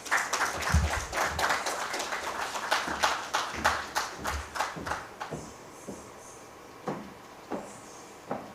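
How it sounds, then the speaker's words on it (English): Audience applause at a Green Finance Conference in Malawi: a dense burst of many hands clapping that thins out after a few seconds into scattered individual claps in a large room. "A round of applause."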